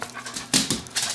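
A pet dog panting rapidly at close range with soft whimpers, steady breathy bursts in a short run with no talk.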